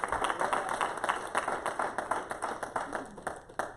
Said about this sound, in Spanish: you give Him a clap offering?